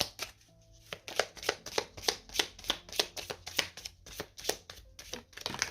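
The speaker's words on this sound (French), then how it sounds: "on va prendre une petite carte de l'oracle des amoureux" Oracle cards for lovers riffled and shuffled by hand, a steady run of crisp, papery bursts about every third of a second, close and alone.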